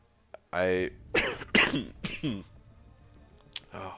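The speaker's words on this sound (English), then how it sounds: "I try to suppress these coughs as much as possible" Several harsh coughs come in a quick cluster, followed by a throat clear and another short cough, close to the microphone.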